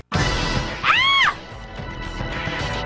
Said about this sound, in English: Screaming! It came from the bad galley! Sounds like a girl.